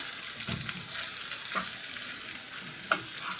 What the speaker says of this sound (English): Go ahead and stir this up real quick.